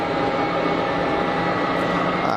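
A United Airbus A319ceo with IAE V2500 engines taxis at Geneva Airport, giving a steady, loud broadband engine roar that holds level throughout, with no spoken voices over it.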